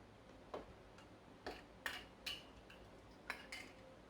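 Metal canning jar lids for homemade black currant jelly being picked up and set down, giving a series of light, sharp clinks and ticks spaced irregularly, close and fairly quiet.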